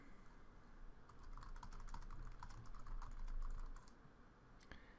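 Keys clatter on a computer keyboard in a quick, light run of close taps, faint against a quiet room hum, easing off toward the end.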